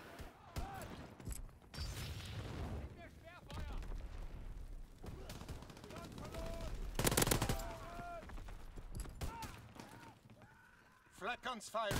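Shotgun blasts in Call of Duty WWII multiplayer, several sharp booming shots mixed with other gunfire and running footsteps, heard under a player talking and game voice chatter.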